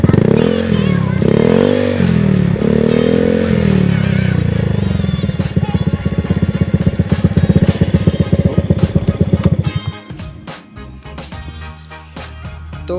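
A Honda Vario 110 scooter with a modified exhaust is revved in a few sharp throttle blips and then held at a high, buzzing rev before dropping back to a rattly idle, loud and close.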